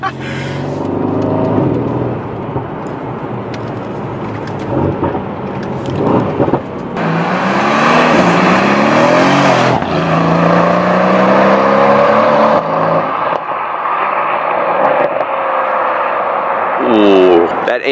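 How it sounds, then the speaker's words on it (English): A Mercedes C63 AMG with the AMG performance exhaust revs and accelerates near an underpass, loud exhaust roar rising and falling in repeated pulls, with a few voices talking under it. "that AMG performance exhaust really makes a difference"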